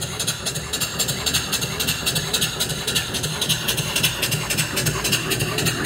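A brand-new mill steam engine being broken in runs at a steady rhythmic chuff, its quick regular pulses close and continuous over a low mechanical rumble.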